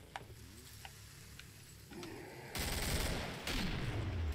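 Gunfire in Killing Floor on the KF-Swamp map: sparse sharp shots at first, then a dense fusillade of rapid overlapping shots that swells and continues to the end, at moderate volume with no voices.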